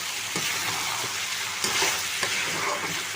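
Chicken pieces and tomatoes sizzle and fry in a hot pan with steady crackling and occasional stirring scrapes, loud and close with no voices.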